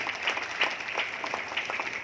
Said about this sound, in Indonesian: Mari yang setuju berikan tepuk tangan yang paling meriah.